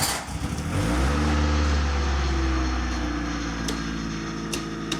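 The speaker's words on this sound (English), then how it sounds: "Let's start the car." An MK2 Golf GTI engine catches and settles into a steady, loud idle right up close, a deep sustained rumble with a slight rise in pitch early on and no voices over it.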